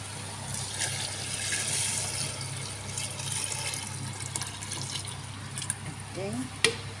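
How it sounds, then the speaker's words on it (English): Water from a tap trickles and pours into a cooking pot while brown flour and vegetables are prepared, a faint steady stream heard close by under a person's speech, ending with a small clink. "So, maglagay na tayo ng water."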